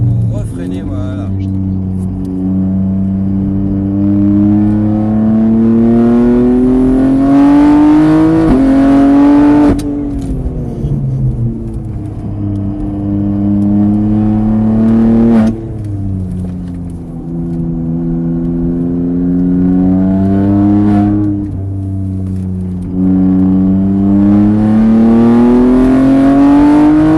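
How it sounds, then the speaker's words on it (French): A car engine revs up in short bursts and eases off, the pitch rising and falling several times in the foreground while people talk over it throughout. "et accélère un petit coup pour refreiner"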